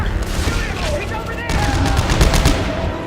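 Dense bursts of rapid gunfire and explosive blasts from the video game Dead Space 3, continuous and loud, with a voice talking underneath.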